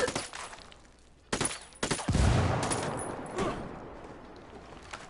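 Gunfire in the tactical shooter Ghost Recon Wildlands: a few sharp shots with echoing tails, one heavier blast with a deep boom midway, then fading reverberant rumble and a last faint report.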